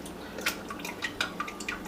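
Coconut water draining from a small hole punched in a fresh whole coconut, soft irregular drips and trickles falling into liquid, faint and close, with several brighter splashy drops spaced through the quiet.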